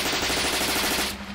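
A rapid burst of video game gunfire rattles continuously for just over a second, loud and close, with no talking.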